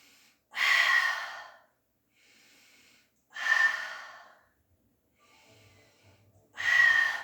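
Deep breaths drawn in and out during a pilates class with a resistance band: three loud, airy breaths come at steady intervals, with softer, quieter breathing in between and no talking.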